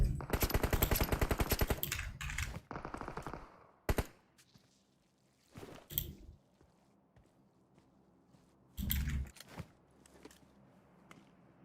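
Gunfire in the mobile battle royale game PUBG Mobile: a rapid automatic burst at the start, then scattered single shots and another short burst, with quieter footsteps between them.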